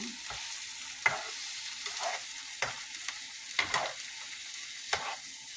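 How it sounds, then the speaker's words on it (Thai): Lobster mushrooms and shrimp are stir-fried in a pan with a steady soft sizzle, broken by sharp scrapes and clacks of a spatula every second or so. "ผัดเห็ดล็อบสเตอร์ใส่กุ้ง"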